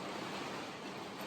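Heavy rain pours and wind howls outside a wilderness shelter, forming a steady, loud, broadband roar with no pauses and no voices.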